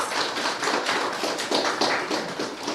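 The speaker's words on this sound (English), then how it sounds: "Let's give them a round of applause." A full round of audience applause at a youth economy agency event, dense steady clapping from many hands filling the room, with no talk over it.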